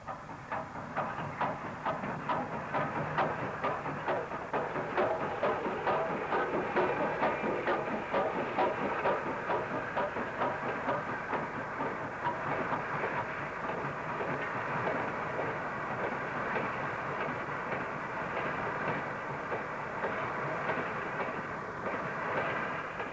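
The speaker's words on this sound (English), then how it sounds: "Number 39 brings a train into number 9 dock." A train rumbles steadily into a station platform on the Manchester to Bury line, with rhythmic clattering of wheels over rail joints, sustained and fairly loud, with no voices.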